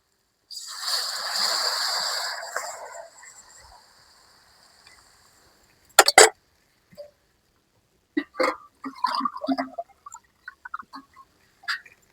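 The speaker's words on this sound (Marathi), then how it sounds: "तर आता आपण ह्यामध्ये पाणी घालूयात" Water is poured into a cooking pot of pitla outdoors in the shade of a tree: a few seconds of close, splashing hiss, then silence broken by scattered clinks and clatters of the pot.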